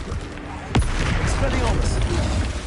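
The Confringo fire-blast spell in Hogwarts Legacy lands as a sudden loud impact early on, followed by a sustained roaring, crackling wash of combat sound under a talking voice.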